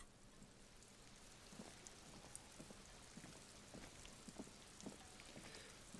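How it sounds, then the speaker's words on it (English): Rain falling over the city of Revachol in the video game Disco Elysium, a faint, steady hiss of rainfall with scattered drips from eaves and gutters. "Rain drips from the eaves and floods the gutters, washing the filth away."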